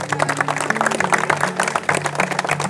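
An audience at a quiz show held in a municipal study hall in Amravati applauds a winner, a dense continuous patter of many hands clapping close by for the whole stretch, without talk.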